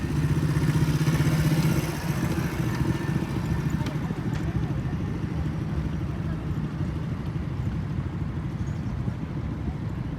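A motorcycle engine revs hard with the throttle opened fully and no clutch, a droning mid-pitched roar holding steady on a street in Karachi, Pakistan, while someone talks over it.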